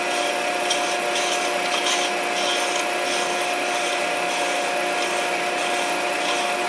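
A skew chisel cuts acrylic on a lathe, giving a loud, steady, continuous whine and hiss with a fixed tonal hum and no breaks.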